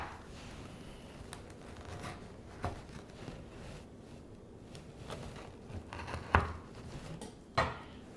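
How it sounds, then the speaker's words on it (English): Quiet scraping and a few sharp clicks of a knife cutting cranberry bliss bars diagonally on a board, close and soft, with the strongest taps near the end. "And then we cut each piece diagonally for a total of"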